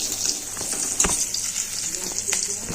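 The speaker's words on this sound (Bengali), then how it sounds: "পেঁয়াজটা ভাজা হয়ে গেছে।" Onion fries in hot oil with cumin seeds and dried chilli in a kadai, giving a steady close sizzle broken by a few soft stirring knocks.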